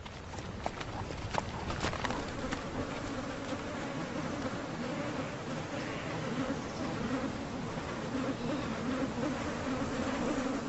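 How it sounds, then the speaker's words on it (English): Swarm of biting insects in Alaska's endless summer daylight: a dense, continuous droning buzz of many wings, steady and close throughout, with occasional nearer passes and faint background thuds. "More than 35 species of biting insects feast in the endless daylight."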